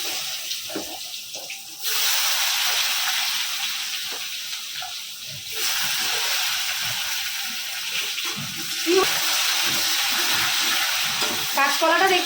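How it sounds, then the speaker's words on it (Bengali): Vegetables fry in a pan with a loud, continuous hissing sizzle that rises in steps as more goes in and is stirred, with faint background sounds at times. "একটু ভাজাভুজি করে নিই সবজিগুলো"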